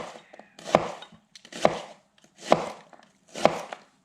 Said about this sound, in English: slice through using this knuckle